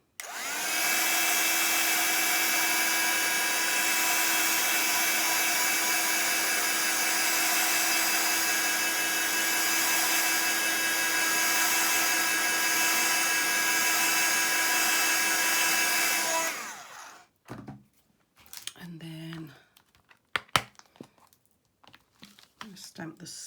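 Heat tool drying stamped black ink on a Christmas card ornament, a steady close whirring blow running about seventeen seconds, then switching off, followed by soft handling sounds and a few clicks.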